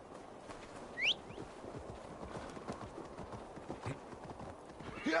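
Horse hooves clip-clop steadily at a trot in the Assassin's Creed Valhalla video game, a continuous rhythmic patter with a brief whinny-like call near the start and no voices.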